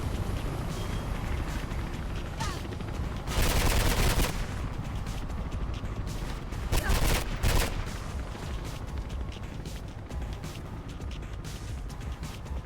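Gunfire in the video game Mirror's Edge: short bursts of loud shots, with the densest volleys around the middle, over a constant noisy game background.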